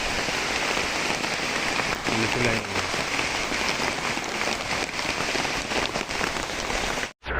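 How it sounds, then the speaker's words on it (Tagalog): Steady heavy rain pours down throughout, a dense hiss of drops on a surface, with a brief spoken phrase near the start. "Malakas yung ulan mga master, ano?"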